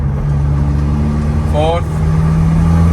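A VW Caddy with a BLS diesel engine converted from PD105 to PD130 accelerates through the gears, giving a steady, loud in-cabin engine drone with one brief chirp partway through.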